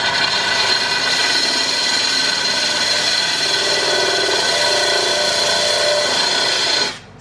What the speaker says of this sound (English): Speed of the drill does matter.